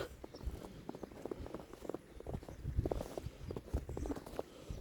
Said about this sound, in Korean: 눈 밟는 소리 들리시나요? 뽀드득 뽀드득